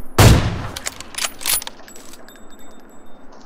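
Gunfire in the mobile battle royale game BGMI, one loud sharp shot followed by a few quicker cracks and a metallic mechanical clatter fading into quiet.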